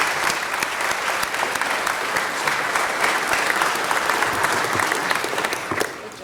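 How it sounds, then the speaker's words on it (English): An audience at a city council meeting claps steadily for several seconds, a dense, even wash of applause that tapers slightly at the end. "Please join me in applauding the achievements of this wonderful school."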